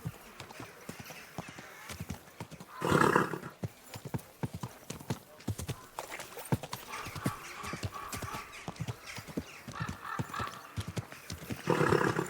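A horse walks along a road in Kingdom Come Deliverance 2, hooves clip-clopping in a steady, even rhythm, broken by a couple of louder snorts or gusts, with a voice speaking briefly.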